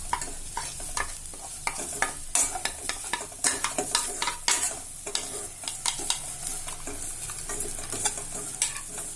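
Vegetable keema masala with turmeric, chili, Kashmiri chili, coriander powder and garam masala sautéing in a pan, a close continuous sizzle broken by frequent quick scraping stirs of a spatula.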